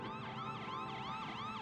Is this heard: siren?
yes